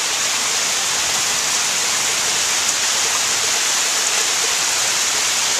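Rainwater pours steadily onto a porch from a leak during a storm, a dense, loud, unbroken hiss of splashing water that lasts the whole time with no talk.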